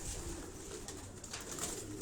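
Pigeons coo softly on a rooftop in Karachi Defence, their low calls faint under a steady wash of outdoor background noise.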